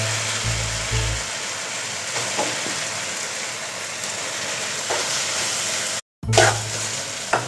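Chopped green onions tossed into a pan with chicken for macaroni, giving a steady broadband sizzle and scraping stir-fry clatter that cuts out briefly near the end, then resumes.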